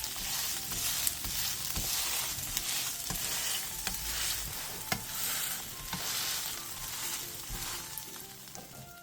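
Chive and fish cake pancake pan-frying in oil, a steady crackling sizzle with a few sharp clicks and scrapes of a spatula pressing and turning, close and continuous without speech.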